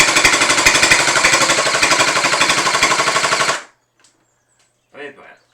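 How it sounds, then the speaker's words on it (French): X-Shot Gel Gatling gel blaster upgraded from 70 to 120 FPS firing full auto, a rapid loud mechanical rattle of shots for about three and a half seconds, then stopping abruptly before a brief voice. "On va tirer tout rafale juste pour rigoler"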